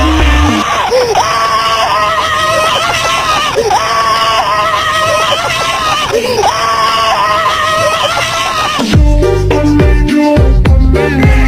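A person screams loudly in a classroom, a long sustained shriek repeated in several rising and falling waves, followed by a burst of loud noisy clatter at the end.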